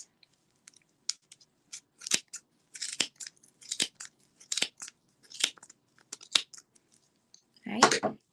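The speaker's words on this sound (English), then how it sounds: "Really important to use sharp scissors to get clean cuts." Sharp scissors snip repeatedly in short, crisp bursts while cutting along a seam, irregularly spaced, close up, ending with a louder rustle of handling.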